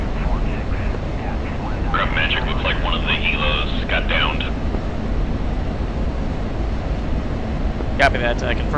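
Steady aircraft engine drone from a simulated WWII warbird in DCS during a 1943 Dam Busters bombing mission, a continuous broadband roar throughout with radio voices talking over it.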